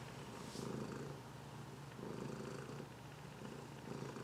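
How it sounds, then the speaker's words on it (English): A pet cat purrs close by in a steady rhythm of soft, rumbling breaths, each cycle swelling and fading about once every second and a half, with no talking. "My cat's harassing me"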